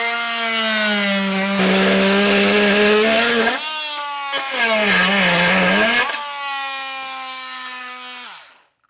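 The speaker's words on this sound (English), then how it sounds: "I'm just going to keep using my multi-tool since I have it on hand" An oscillating multi-tool cuts through hard metal on a 2024 Jeep Grand Cherokee L: a loud, steady high-pitched buzzing whine that sags in pitch as the blade bites, runs for about eight seconds, then cuts off.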